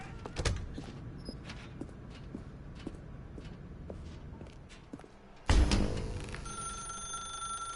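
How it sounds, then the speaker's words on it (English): A telephone ringing in the video game The Stanley Parable, a sharp bell burst following a stretch of quiet footsteps, loud and close, with faint talking. "Now pick up the phone."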